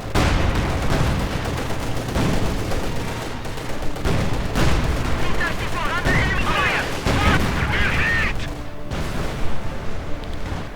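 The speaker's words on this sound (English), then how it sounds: "Anti-tank grenades going off" Anti-tank grenades and battle fire burst repeatedly in a Company of Heroes 2 match, a dense run of loud cracks and booms with a commentator talking over the whole stretch.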